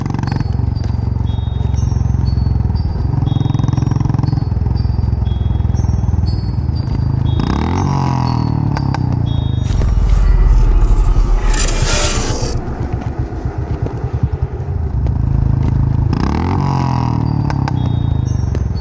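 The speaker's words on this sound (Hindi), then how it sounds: "बाबा बाइक की स्पीड स्लो नहीं करते।" A loud motorcycle engine roars steadily at speed, with a rising whine and a rough scraping, clattering burst in the middle before the engine noise continues.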